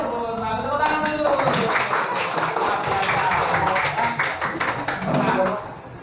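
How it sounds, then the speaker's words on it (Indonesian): Schoolchildren clap their hands together in a classroom during a lesson, a burst of rhythmic group clapping that swells and then fades near the end, with voices mixed in. "Nah, tepuk tangan dulu"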